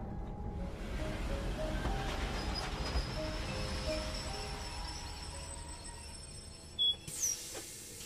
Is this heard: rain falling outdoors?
no